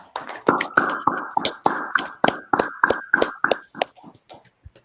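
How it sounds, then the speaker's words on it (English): A small audience at a brotherhood class claps for the next speaker, making about a dozen sharp, close hand claps in a fairly steady rhythm that thin out and fade toward the end. "Y'all clap it up."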